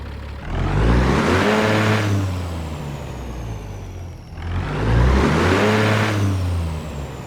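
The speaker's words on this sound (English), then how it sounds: "that beautiful engine sound is none other than the CAT 3406E 2WS strike pipe engine mod by Slav Jerry" Kenworth W900 truck in American Truck Simulator running a CAT 3406E engine mod with straight pipes, two loud rising revs as it pulls through the gears, deep throbbing rumble under a steady whir, no talking.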